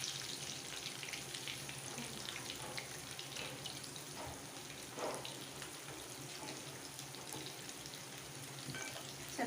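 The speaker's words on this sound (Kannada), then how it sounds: "ಚೆನ್ನಾಗಿ ಎಣ್ಣೆಗೆ ಅದು ಫ್ರೈ ಆಗಬೇಕು. ಕೆಂಪಗಾಗೋ ತನಕ ಫ್ರೈ ಮಾಡಬೇಕು." Fish frying in oil on a flat tawa gives a faint, steady sizzle with a watery, crackling texture that runs the whole time, with no talk.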